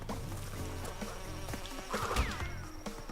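A bee buzzes in the Crash Bandicoot N-Sane Trilogy video game, a brief close insect drone rising over busy game music and effects for a second or so.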